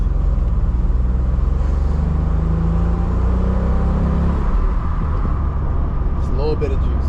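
1993 Nissan 300ZX on its first drive, a steady loud engine rumble inside the cabin with a slowly rising tone and light road noise, a voice briefly heard near the end.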